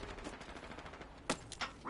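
Gunfire in a PS4 online battle game rattles in a steady, dense stream, joined by a couple of sharper nearby shots near the end, with no talk.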